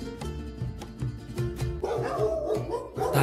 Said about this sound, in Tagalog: may mga aso dito